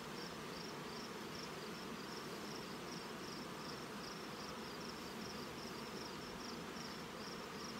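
A dense, continuous hum of many honey bees buzzing up close while late-season honey is pulled from nucleus hives using an escape board, steady and even, with faint repeating high chirps in the background.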